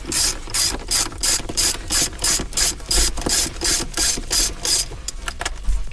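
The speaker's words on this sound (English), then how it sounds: "And then there's 4 10mm bolts here. You're gonna remove these bolts as well." A ratchet loosens 10mm bolts on an IS300 race car, its rapid pawl clicks coming in steady back-and-forth bursts of about a dozen strokes, close and clear with no talking.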